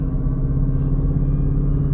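A car on the road gives a steady, loud engine drone with a low hum and tonal whine, close by, with no voices over it.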